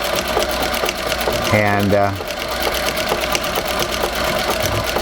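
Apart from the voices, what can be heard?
Singer 201-3 treadle sewing machine sewing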